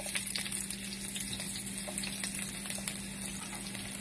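Garlic frying in a pan as the first step of special fried rice gives a continuous close sizzle and crackle, loud and steady throughout with no voices.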